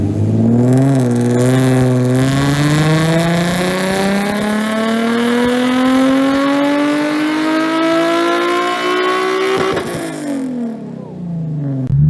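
A Nissan 350Z running on E85 revs hard through a dyno pull, its engine note climbing steadily and loudly for about ten seconds before cutting off sharply.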